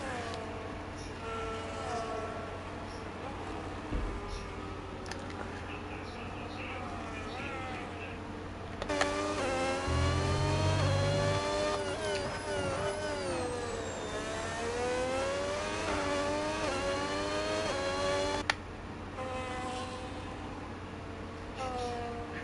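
Formula 1 cars in the racing game F1 26 at the Brazil circuit, with high, buzzing engine whine that rises and falls through gear changes. It grows louder in a mid section, then settles back under faint background sound.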